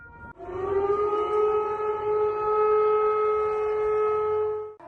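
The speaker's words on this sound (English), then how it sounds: "residents of the capital of the Russian Federation woke up to the sound of an air raid siren" An air raid siren in Moscow, sounded during a scheduled test of the public alert system, holds a loud, steady wailing tone with rich harmonics for several seconds, alone and without speech.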